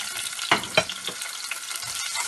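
Grated ginger and garlic hit a hot pan for vegan cauliflower Manchurian, giving a steady sizzle with a few louder scrapes and bursts of frying as they go in, no talking.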